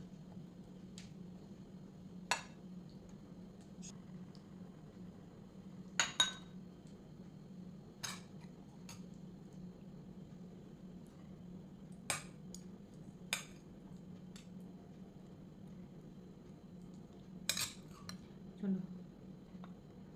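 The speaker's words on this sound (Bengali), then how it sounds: "ফ্রাইড রাইসটা বেড়ে নিয়েছি এবার চিলি চিকেনটা বেড়ে নেবো" Metal spoon clinks sharply against a plate a dozen or so times while serving chilli chicken beside fried rice, scattered taps over a quiet steady background hum.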